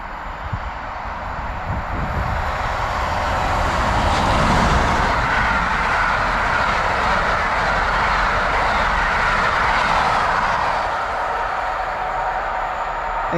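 A Class 86 electric locomotive hauling the Cumbria Mountain Express rail tour from London Euston to Carlisle rushes past, a steady broadband roar swelling to a peak midway and easing off, loud and close with no talk.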